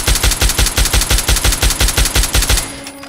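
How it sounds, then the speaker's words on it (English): DLC machine gun, a sci-fi-style weapon in Fallout 3, firing a loud, close burst of evenly spaced rapid shots for about two and a half seconds before stopping abruptly. "This gun is from a DLC. It's like a Scient gun, but it's also a machine gun."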